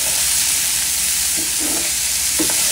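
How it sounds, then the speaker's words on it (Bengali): Tomatoes frying in a pan for a spicy tomato chutney, giving a loud, steady sizzle and hiss with a few soft stirring scrapes. "দিয়ে দিলাম টমেটো, হালকা ভেজে নিচ্ছি"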